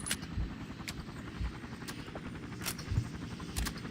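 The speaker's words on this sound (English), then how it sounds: "And here they are with their helicopters again, dropping their napalm, bringing their soldiers down here." Helicopters in the Battlefield Vietnam video game, a steady rotor throb with regular beating pulses and occasional sharp high clicks, moderately loud and continuous with no talking.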